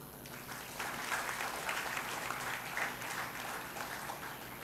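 Steady applause fills a hall at a moot court competition, a dense, continuous clapping from an audience at moderate distance that holds through to the end, with no voices over it.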